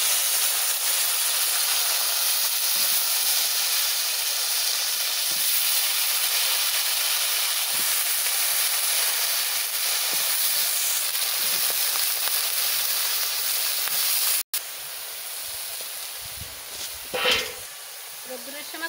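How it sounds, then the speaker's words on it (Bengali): Taro leaves hit a hot pan of oil with fried garlic, setting off a strong, steady hiss and sizzle that runs unbroken, then drops to a quieter crackle with a brief sharper burst near the end. "রসুন ভাজা হয়ে গেছে, এবারে আমি কচু শাক দিয়ে দিচ্ছি।"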